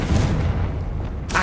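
A deep booming blast from the Confringo spell in the video game Hogwarts Legacy rumbles loudly with a low sustained roar, then a sharper crackle near the end.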